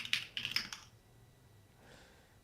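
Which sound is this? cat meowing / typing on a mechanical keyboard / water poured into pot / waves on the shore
typing on a mechanical keyboard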